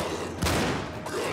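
A sniper rifle fires in the video game Cryostasis, a sharp burst of gunfire with a loud crack and rumbling tail, then a second shot near the end, close and loud with no talk.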